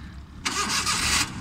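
A car engine cranks and catches during a driving lesson, a loud broadband burst of roughly three-quarters of a second before the sound drops back to a low idle rumble.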